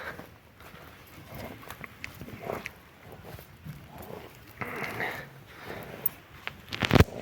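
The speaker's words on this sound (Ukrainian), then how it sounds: "Файна пара коней." A pair of horses, a stallion and a mare, walk with hooves clip-clopping at a slow pace on a hard surface, with scattered background noise and a sharp clatter near the end.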